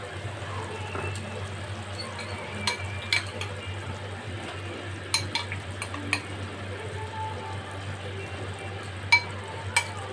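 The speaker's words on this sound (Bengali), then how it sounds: "এবার এটার মধ্যে আমি পটলগুলো দিয়ে দেব।" Pointed gourds (potol) go into a spice paste frying in a pan for Bengali vegetarian doi potol, giving a steady low sizzle with a few sharp utensil clinks and taps scattered throughout.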